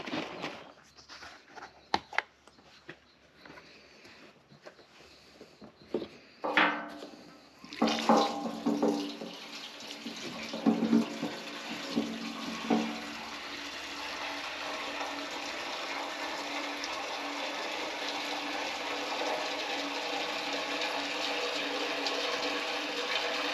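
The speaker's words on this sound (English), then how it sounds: "I'm going to pour all of that gas in there, put this back in place, and start this thing up." Gasoline poured into the fuel tank of an antique tractor, a steady liquid gush and trickle with a few knocks and clatters early on, then a continuous pour running on its own without talk.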